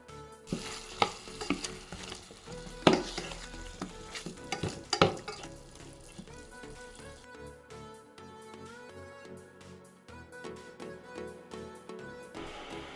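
Chicken roast cooks in a pan with onion, garlic, coriander, cumin and turmeric, giving loud stirring scrapes and sizzling early on that settle into a quieter fry, with faint music underneath.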